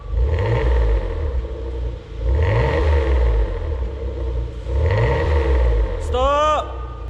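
An LPG new-model Hyundai Grandeur engine idles and revs in three rising surges, a deep but quiet rumbling exhaust beneath with the variable exhaust valve closed, with a brief squeal near the end.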